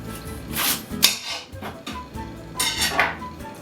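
A knife cuts through a celery heart on a board with several uneven thuds and scrapes, mixed with clinks of utensils close by.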